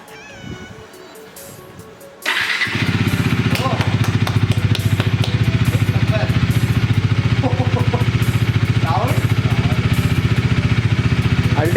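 A 2019 Bajaj Dominar 400 motorcycle engine starts after a quiet moment and settles into a loud, pulsing idle that continues steadily, with faint voices in the background.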